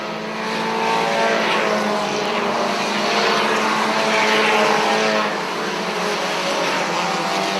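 Race cars at a short-track event roar together down the backstretch after coming off turn two, forming a loud, steady engine drone that swells and fades slightly, with no talk over it.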